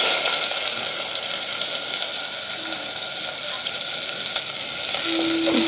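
Onions fry in hot oil in a home kitchen pan for a chicken and tender bamboo shoot dish, giving a steady close, loud sizzle and hiss that holds throughout without a break.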